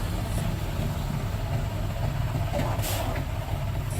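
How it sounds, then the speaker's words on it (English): A heavy tanker truck creeps around a narrow, tight elbow curve, its engine a steady low diesel rumble with a brief hiss of air brakes partway through; no voices. "You can see the tanker truck attempting to navigate the narrow gap"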